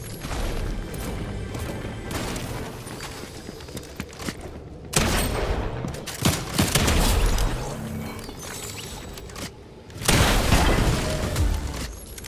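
Video-game gunfire comes in bursts of rapid shots and crashing impacts, loud and dense, with brief lulls between the volleys.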